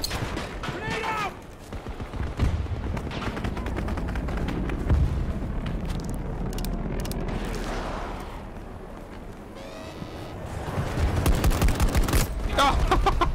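Gunfire and explosions rumble through a Battlefield 2042 open beta firefight, with dense crackling shots and heavy booms running nearly continuously, swelling louder toward the end, while players talk over the chaos.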